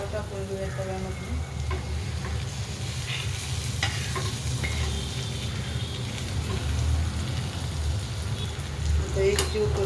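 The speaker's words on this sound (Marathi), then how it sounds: "आता आपण गवार टाकून घेऊया तव्यामध्ये." Cluster beans (guar) sizzle in hot oil with turmeric in a pan while being stirred, a steady frying crackle under repeated scraping and clinks of the spatula.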